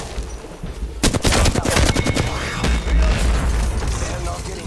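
Rapid gunfire crackles in Apex Legends, a dense burst of loud automatic shots followed by scattered pops and a low boom over game noise.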